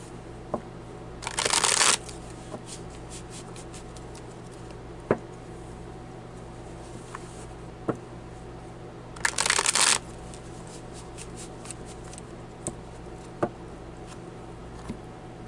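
Two quick riffle shuffles of a deck of tarot cards, each a dense rippling burst lasting under a second, separated by several seconds of quiet room tone with faint scattered clicks and taps of card handling.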